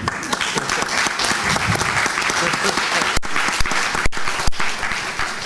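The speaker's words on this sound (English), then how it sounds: "give a big applause to Réka Szemerkényi" Audience applause at a transatlantic alliance conference honors Réka Szemerkényi: dense, steady clapping from many hands, loud and continuous for several seconds with only brief dips.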